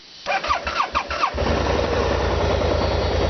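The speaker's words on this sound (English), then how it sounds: "This is a cold start, so it took a few turns." A 2013 BMW 650GT scooter engine cold start: it cranks a few times in short bursts, then catches and settles into a steady, buzzing idle.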